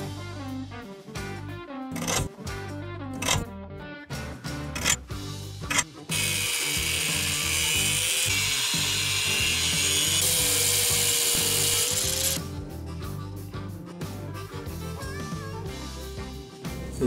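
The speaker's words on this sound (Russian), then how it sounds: "теперь возьмем, маленько поработаем болгаркой" Angle grinder cutting the steel of a freon cylinder: sharp, irregular bursts and clanks of metalwork at first, then a loud sustained grinding whine for about six seconds, followed by more choppy knocks and scrapes, with no voices.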